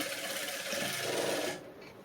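A sewing machine runs in one steady burst while stitching the neckline of a back-open princess-cut blouse, whirring close and alone before stopping abruptly.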